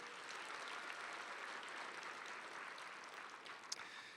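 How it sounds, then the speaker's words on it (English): Audience applause at a county education event, a steady, dense wash of clapping held throughout, with one sharp louder clap near the end. "Let's give them a nice round of applause."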